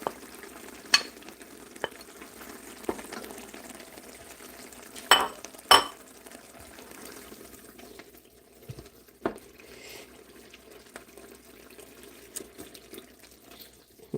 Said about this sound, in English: I'm going to go in now with tomato paste and fry it down